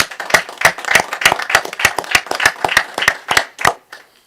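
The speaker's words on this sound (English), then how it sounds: "Let's give Jennifer a round of applause" Small group at a city council regular session clapping in a round of applause, about a dozen distinct, evenly spaced claps ringing out close and clear before fading.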